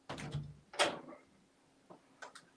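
A hand touches and bumps a door in an old mansion, giving a few soft, close knocks and rattles with quiet gaps between them and no talk.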